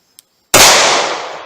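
A single sharp gunshot from a .38 Special pocket gun firing 125 grain Winchester +P, loud and close, its blast decaying over about a second after a faint click.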